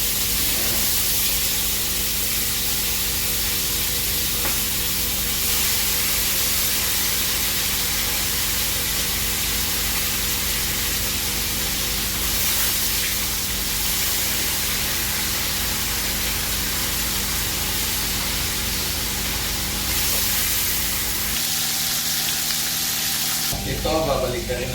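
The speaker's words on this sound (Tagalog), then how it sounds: "iprituhin na natin yung isda pa isa-isa" Fish pieces frying in hot oil for a Bicol-style sarciadong isda, a steady loud sizzle and crackle running throughout, with a brief quieter break near the end.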